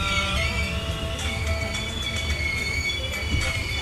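A passenger train on the Sairang to Kolkata Express pulling into a hill-country station, its wheels letting out steady high-pitched squeals over a constant low rumble of moving carriages, close and continuous throughout.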